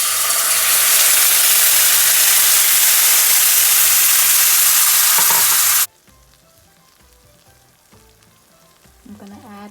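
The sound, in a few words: curry paste toasting and sizzling in a pan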